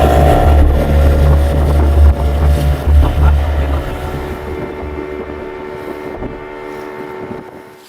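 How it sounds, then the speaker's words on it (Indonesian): A rented local fishing boat motoring away from Kawasi, its engine droning loud and close at first, then easing and fading as the boat pulls off amid wind and water noise. "Dengan menyewa kapal nelayan lokal, sore itu juga kami pergi meninggalkan Kawasi."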